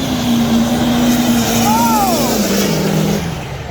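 Diesel pickup trucks, an 07 Dodge against an 06 Chevrolet, roar down a dirt drag strip at a motorsports park, a loud sustained engine drone with a passing pitch sweep, under an announcer's talk.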